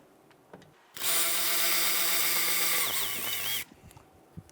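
A power tool spins steadily for about three seconds to loosen and remove a 14mm rear brake caliper bolt on a 2012-2017 Toyota Camry. The close whirring whine drops in pitch just before it stops.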